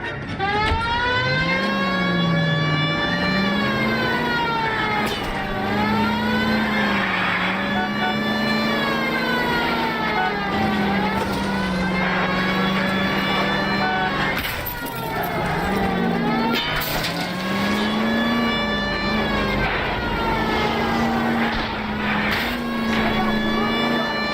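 A car engine drones loudly and continuously while being driven in L.A. Noire, its pitch climbing and dropping with gear changes and acceleration, with occasional bumps and voices.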